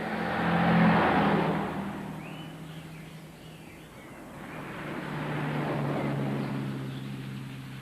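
Constant road traffic rumbles through a city at dawn, with cars swelling as they pass by, fading, then building again. Faint birdsong sits over the steady motor drone.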